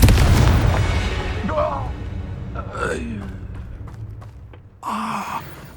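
A Confringo spell explosion in the Hogwarts Legacy video game, a deep rumbling boom at the start fading over several seconds, mixed with game voices, grunts and gasps, and another burst near the end.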